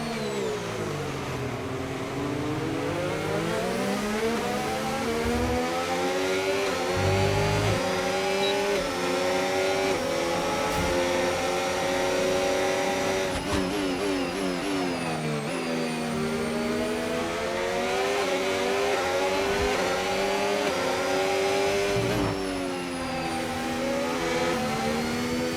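Formula 1 car engine screaming through gear changes while racing and overtaking at Bahrain in F1 25, loud and continuous with rising and falling revs throughout.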